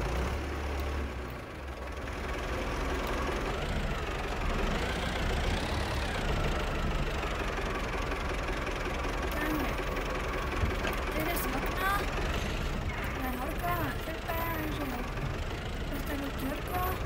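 A tractor engine starts and then settles into a steady rumbling idle that carries on throughout, close and fairly loud, with a voice speaking over it.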